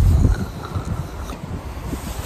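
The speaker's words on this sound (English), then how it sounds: "Big gust of wind got in there." A strong gust of wind outdoors buffets the microphone beside a one-man Miltec Recom tent, a loud low rumble that peaks at the start and then keeps blustering unsteadily, with no talk.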